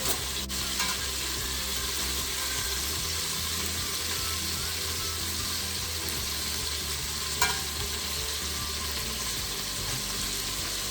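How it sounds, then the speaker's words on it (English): Meatballs fry in a pan with a steady close sizzle, and a couple of brief utensil clicks mark them being carefully turned over. "it's time for me to turn my meatballs around"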